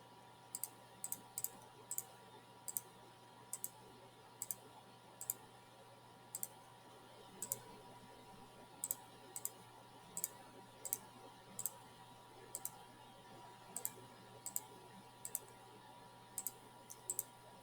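Calculator keys are tapped in a quiet room, producing sharp, faint clicks that come singly and in quick pairs at an uneven pace for about eighteen seconds.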